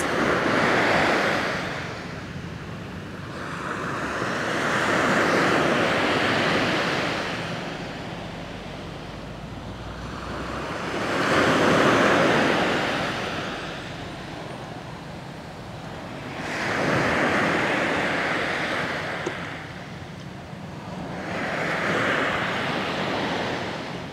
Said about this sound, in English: Let's take a moment to listen to the waves.